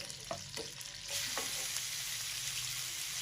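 Half a kilo of boneless chicken frying in oil in a karahi over medium to high flame. The sizzle is soft with a few stir scrapes at first, then becomes a steady, louder hiss, close by, with no talking.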